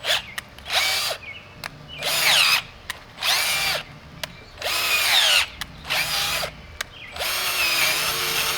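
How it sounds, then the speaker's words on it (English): A power drill spins an auger bit into the ground outdoors, whining in repeated bursts of a second or so with short pauses between, loud and close. "I will use my auger bit to drill a hole in the ground"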